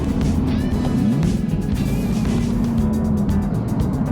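A supercar in stop-and-go LA traffic, its engine drone steady and close with rising and falling tones as it shifts jerkily into first gear, under a constant roar of road and cabin noise.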